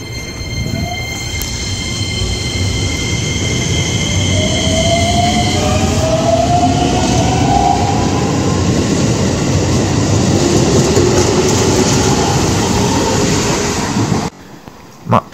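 A commuter train rumbles past a station platform at Koganecho Station steadily with clattering wheels and a high whine that fades, the noise cutting off abruptly near the end.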